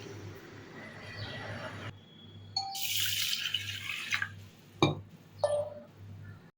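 Water runs and splashes into a bowl as rice is swished and rinsed, with clinks and sloshing bursts and no talking.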